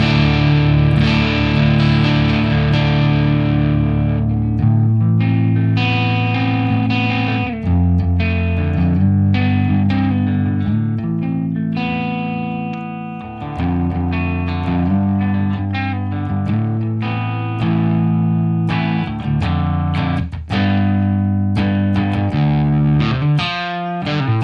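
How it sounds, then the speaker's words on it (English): Electric guitar played with an ambient effects tone through a short studio-style reverb, sustained chords and notes ringing with a warm, moderately sized space, loud and alone without talk. "here's the example of a shorter reverb that is called studio"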